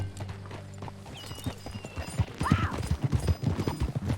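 Horse hooves clip-clop in Red Dead Redemption 2 as a ridden horse moves at a walk, the steady hoofbeats close and clear with a brief whinny partway through and game ambience behind.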